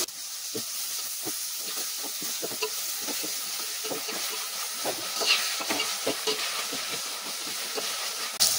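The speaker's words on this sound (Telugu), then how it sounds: "2 స్పూన్లు అల్లం వెల్లుల్లి పేస్ట్ వేసుకున్నాం కదా, అదంతా కలుపుకోవాలి." Ginger garlic paste is stirred into cooked tomatoes in a pan for veg masala rice, a steady soft sizzle and steam hiss under repeated, evenly spaced spoon scrapes and taps, close and fairly quiet.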